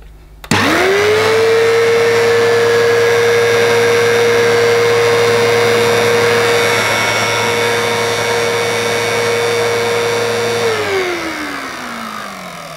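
An Electrolux Z1910 self-propelled cyclone vacuum cleaner, flipped upside down, whirs loudly as its motor spins up to a steady high whine, holds for about ten seconds, then winds down with a falling pitch.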